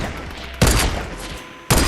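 Rapid bursts of gunfire in Fortnite Battle Royale, loud sustained volleys with a sharp new burst near the end, no talk over them.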